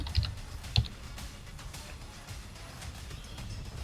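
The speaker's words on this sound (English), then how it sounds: "You type in Armitage," Typing on a computer keyboard as a program name is entered on a Kali Linux system: a few sharp key clicks near the start, then quieter scattered taps over low background hum.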